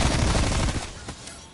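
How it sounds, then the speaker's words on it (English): Stun grenade detonating in Call of Duty: Cold War zombies, heard as a loud, dense blast that fades into a ringing, hissing tail over about a second. "Stun grenade out."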